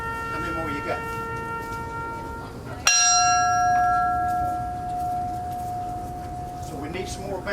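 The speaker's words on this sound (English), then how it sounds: "So we need some more bell ringers." Church bell struck once at an Edmund Fitzgerald memorial service, a sharp clang that rings out and decays slowly, following an earlier fading toll, under a murmuring crowd.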